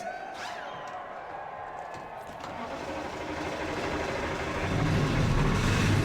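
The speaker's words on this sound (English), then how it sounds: "Engines have been fired." Forty-two race cars fire their engines together at Charlotte Motor Speedway before the Coca-Cola 600, a dense, building roar of many engines with crowd noise, growing louder toward the end.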